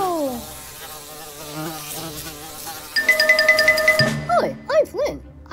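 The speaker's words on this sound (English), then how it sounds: "I was the fly buzzing around earlier." A cartoon fly buzzes around, a loud, close, wavering insect drone that shifts in pitch, joined partway through by bright chiming tones and brief voice-like chirps.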